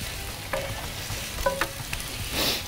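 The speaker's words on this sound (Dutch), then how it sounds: "En hoor het al lekker pruttelen." Chopped garlic frying in a little oil in a pan for an Italian meatball sauce, with a steady soft sizzle and a few brief stirring scrapes, heard close and alone.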